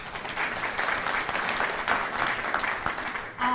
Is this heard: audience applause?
yes